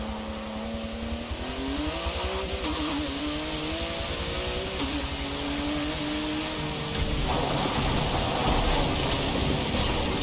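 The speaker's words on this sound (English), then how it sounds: "Although it's raining" Steady rain hiss in the Forza racing video game, layered under a race car engine that revs and climbs through gears, with the wet wash growing slightly louder near the end.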